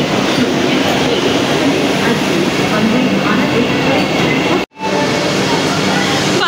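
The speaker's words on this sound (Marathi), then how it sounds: "फायनली माझी ट्रेन आली आहे" A Vande Bharat express train rolls into a station with a loud, continuous rumble and rushing noise. A brief dropout comes near the end, and faint voices are mixed into the din.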